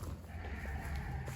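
Sheep bleat faintly on a farm, a few short calls rising out of steady low outdoor rumble as a person calls the flock nearby.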